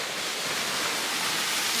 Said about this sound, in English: And the waves are big today.